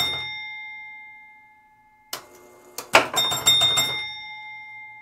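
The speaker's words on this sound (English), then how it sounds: "All these bells, man. They are not quiet." Bells on an electromechanical machine, apparently a pinball machine, sound loud and close. A sustained ringing tone fades, then bursts of rapid, clattering bell strikes and mechanical clacks follow in quick clusters.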